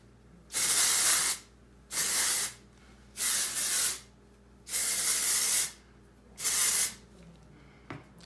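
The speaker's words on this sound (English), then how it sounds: "I am going to go in with the texturizing spray. Shake it up a bit." Five bursts of texturizing aerosol spray hiss close by onto hair, each lasting about a second, separated by short pauses.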